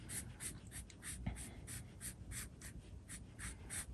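Pen scratching across the paper of a Hobonichi Weeks planner, close and quiet, in a run of short repeated strokes with brief pauses between them.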